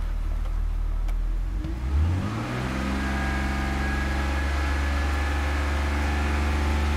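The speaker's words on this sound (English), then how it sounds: "I'm gonna raise the engine RPM up a little bit just to get these oxygen sensors working faster" A 2002 BMW 330i engine with a lean condition, not yet at operating temperature, is revved up and held steady around 3000 RPM, its loud continuous drone rising in pitch and then staying constant.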